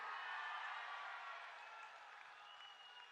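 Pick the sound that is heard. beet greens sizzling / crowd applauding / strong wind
crowd applauding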